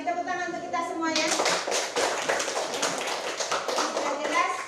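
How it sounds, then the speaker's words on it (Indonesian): Children in a classroom break into lively rapid clapping together, following a brief spoken voice at the start, and the applause carries on steadily to the end. "Tepuk tangan untuk kita semua ya."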